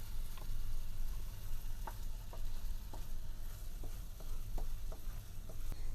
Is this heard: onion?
yes